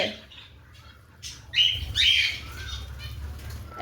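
Birds squawk in a couple of sharp bursts with a flutter of wings, over a quiet background.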